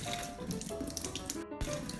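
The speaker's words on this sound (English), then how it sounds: "just run it under some gentle water and then just pull the seeds out" Gentle tap water runs steadily over a tomato being rinsed at a kitchen sink, a continuous splashing stream with a brief cutoff near the end.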